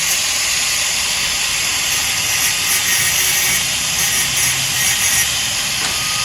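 Angle grinder grinding a plough casting, with a loud, steady high-pitched hissing and grinding that holds without a break.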